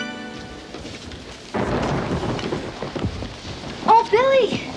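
A thunderstorm with heavy rain, a steady downpour wash joined by a rumble of thunder, with a voice speaking briefly over it near the end.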